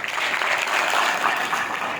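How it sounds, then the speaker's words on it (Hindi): An audience at a government polytechnic in Hisar gives a hearty burst of clapping for the Jindal family and village head, a dense, even applause throughout. "इनके लिए एक जोरदार तालियां बजाओ।"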